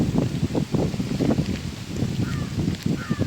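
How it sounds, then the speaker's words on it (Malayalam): Gusty wind during rain outdoors rumbles and buffets the microphone in uneven surges, close and fairly loud, with no clear talk over it. "മൊത്തം കാറ്റിൻ്റെ സൗണ്ട് ആയിരിക്കും ഇതൊക്കെ."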